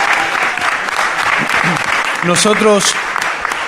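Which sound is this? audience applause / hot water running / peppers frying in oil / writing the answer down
audience applause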